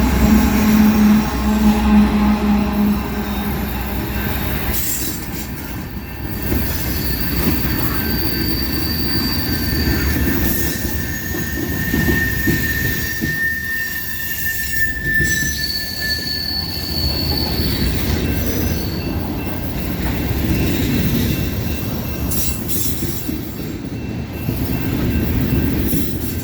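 A CSX freight train hauling tank cars rolls slowly past at close range, wheels squealing in long high-pitched tones over a steady rumble and clatter of railcars, with a low horn-like tone near the start.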